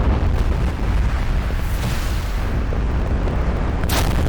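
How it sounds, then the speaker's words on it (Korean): An underground explosion blasting a tunnel in an anime battle scene: a massive, sustained roaring rumble that fills the whole stretch, loud and dense with low booming weight, with no speech over it. "제국군은 공화국군 밑에 있는 지하에 폭발물을 설치해 길을"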